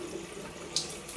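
Hot water runs from a tap for cleaning paint brushes, a steady close splashing stream into a sink with a small surge near the end, and no voices.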